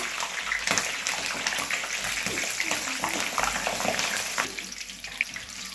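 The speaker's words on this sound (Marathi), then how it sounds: "आता मिरची तळून घेऊया" Green chillies deep-frying in hot oil after vadas for vada pav, a dense loud bubbling hiss that runs steadily and eases slightly near the end.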